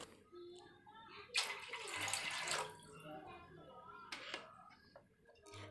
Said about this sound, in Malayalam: അപ്പോൾ 6 കപ്പ് വെള്ളമാണ് കേട്ടോ ചേർക്കുന്നത്.